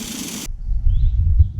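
GMP Gun air-driven maintenance spray pistol for car rustproofing gives a loud, steady hiss for about half a second, then cuts off abruptly, leaving a low rumbling background with a faint thump near the end.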